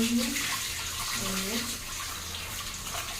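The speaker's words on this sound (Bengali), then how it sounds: "শাকগুলো এখন আমি ভালো করে ধুয়ে নেবো প্রথমে" Leafy greens are washed under running water, a steady close rush of water splashing in a sink throughout.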